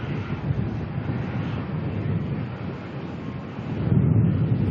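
A Qantas airliner, flight QF35, departs Melbourne for Singapore, its jet engines producing a continuous, distant low roar that swells slightly toward the end.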